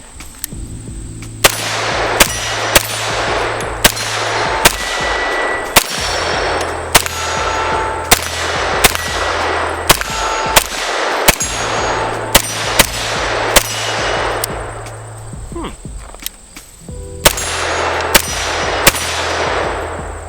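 A Grand Power Stribog SP9A1 9mm carbine fires through a magazine as loud, sharp single shots spaced irregularly, with brief pauses between short strings and an echoing outdoor tail.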